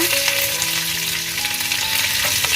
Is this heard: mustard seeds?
yes